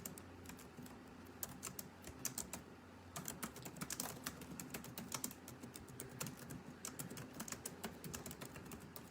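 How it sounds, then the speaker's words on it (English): Rapid, continuous clacking of fingers typing on a computer keyboard, close and fairly quiet, with an even rattling rhythm throughout and no voices. "I'm just typing out."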